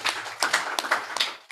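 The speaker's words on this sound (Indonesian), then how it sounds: "Tepuk tangan bagi Yesus." A church congregation claps hands together during a sermon, a quick run of sharp, close claps in uneven bursts over about a second and a half with no talking.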